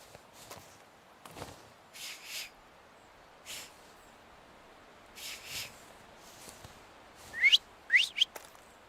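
Whistling in the video game The Thaumaturge: short faint breathy bursts scattered over several seconds, ending in a few louder, rising chirp-like whistled notes near the close, with soft footstep-like sounds between.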